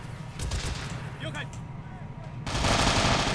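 Machine gun fire in the Men of War Assault Squad battlefield game rattles in dense, steady bursts, loud and close, swelling louder near the end amid broader battle noise.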